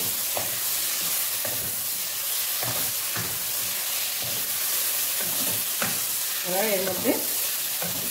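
Fried vegetables being stirred into tangra fish masala with tomato in a pan, a constant loud sizzle with repeated spatula scrapes at an uneven rhythm, close up, and a few brief spoken words.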